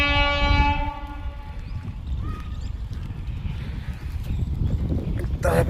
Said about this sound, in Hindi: भाइयों दोनों ट्रैकों पे ट्रेन आ रही है